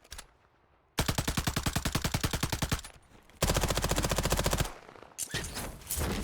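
Automatic gunfire in the Call of Duty Warzone video game comes in long rapid bursts with evenly spaced shots, loud and close, broken by short pauses between volleys.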